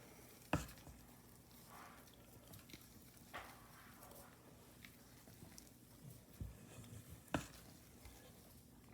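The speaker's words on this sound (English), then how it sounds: "So we just want to fold the blueberries in." A spoon gently folds blueberries into muffin batter, making soft, wet squishing and stirring sounds with a few light knocks against the bowl. It is quiet and close, with no talking.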